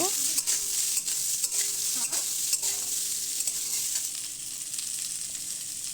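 Amla frying in oil in a wok, stirred with a spoon that scrapes and knocks against the metal at a steady pace over a constant close sizzle, the stirring easing off toward the end.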